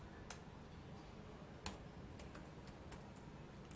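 Faint, scattered keystrokes on a computer keyboard as code is typed, a few sharp clicks with short pauses between them, quiet and close.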